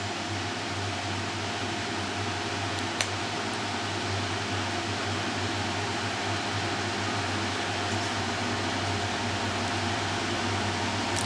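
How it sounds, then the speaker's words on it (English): An LG 7,000 BTU portable air conditioner, model LP0711WNR, running with its fan and compressor on, giving a steady, even whoosh with a low hum beneath it, close and constant with no talking. "So the fan starts at high, then I turn it back down to low, and let's trigger the compressor here."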